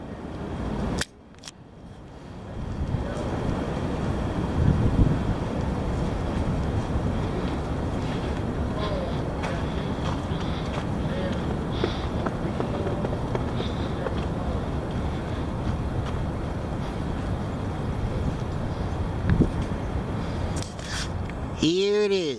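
Heavy wind blows as a steady, loud, broadband roar that lasts about twenty seconds after a brief knock at the start.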